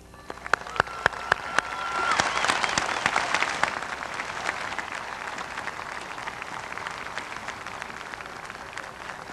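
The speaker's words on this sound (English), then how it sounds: "please, let's offer a resounding round of applause" Crisp early claps grow into full, sustained applause from a high school commencement audience, staying steady and moderately distant to the end.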